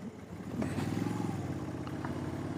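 A Moto Guzzi Breva 1100 motorcycle rumbles along on the road at a steady pace, its engine a continuous low drone with a faint tick and clatter over it.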